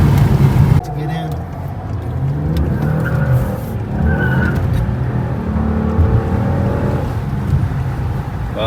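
A tuned 2017 Lincoln MKZ sedan accelerates hard in traffic, its engine note rising and swelling over several seconds with a brief tire squeal, loud and close from inside the car, with voices mixed in.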